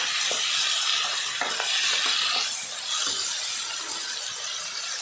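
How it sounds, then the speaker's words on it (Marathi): Chopped brinjal (eggplant) sautéing in a hot pan gives a steady, fairly loud sizzle and hiss, with scattered scraping clicks from stirring throughout. "आता यामध्ये चिरलेली वांगी घालायची आहेत व ही सुद्धा परतून घ्यायची आहेत."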